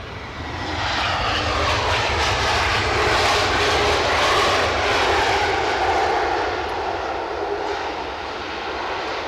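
An Airbus A321 arrives at Edinburgh airport with a loud, sustained engine roar that holds steady and then eases slightly toward the end.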